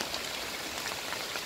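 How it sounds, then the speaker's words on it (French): Steady rain falls in a dense, even hiss of drops with no pauses, close and moderately loud throughout, with no voices. "Il pleut."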